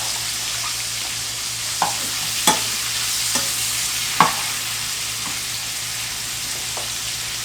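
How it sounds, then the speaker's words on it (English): Mushrooms and bacon frying together in a pan, a soft steady sizzle with a few sharp utensil scrapes and taps as the food is stirred, fairly quiet and without talk. "we're just going to let it cook together until the mushrooms are cooked and the bacon's crispy"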